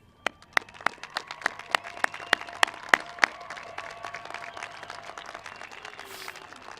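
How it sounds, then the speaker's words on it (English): Audience at a high school graduation ceremony in West Plains claps. About ten crisp, distinct claps ring out at a steady pace over a soft spread of scattered clapping, then the crowd fades away. "give them a round of applause for walking this journey with you"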